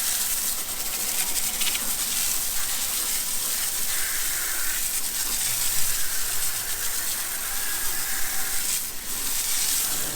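A garden hose sprays water onto a Mustang's wheel, making a continuous close hiss and rush of water with small fluctuations in force.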